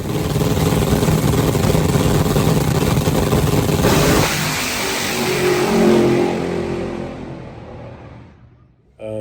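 A nitro drag car launching at a cornfield race, its engine roaring loud and continuous before easing off, then a brief burst as it fades toward silence.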